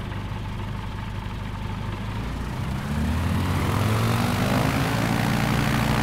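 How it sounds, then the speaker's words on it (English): Propeller aircraft engine in Microsoft Flight Simulator 2020 on Xbox Series X starting up, a steady low idle drone that steps up to a louder, fuller roar partway through, with no talking. "let's quick start to get the engine back running"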